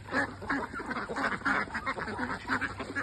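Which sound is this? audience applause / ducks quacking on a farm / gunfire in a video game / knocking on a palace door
ducks quacking on a farm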